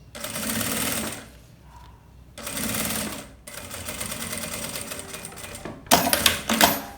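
A sewing machine stitches a zipper onto a shampoo-holder pouch, running in three loud bursts of steady motor whir with brief pauses between, ending in sharper clattering stitches; no speech.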